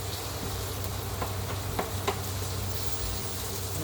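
Sautéing tinapa (smoked fish) in a pan while cooking hubad na monggo: a steady sizzle and crackle of frying runs throughout, with a couple of brief sharper pops near the middle and no talking.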